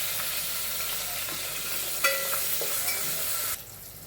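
Green chillies, curry leaves and garlic fry hard in hot oil for spiced puffed rice bhadang, giving a dense, steady hiss with a few spatula clicks, close by, before the sizzle abruptly drops away near the end.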